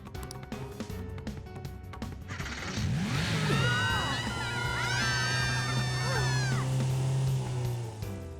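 A race car engine from the video game Persona 5 Strikers revs and whines at high pitch, climbing and falling in sweeps. Music plays underneath.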